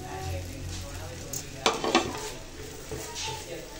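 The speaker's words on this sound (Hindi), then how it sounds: "आलू को हमने यहाँ पे करना है फ्राई" Potatoes fry in a little oil in a pan with a steady close sizzle, and a brief cluster of clattering stirs and scrapes comes in the middle.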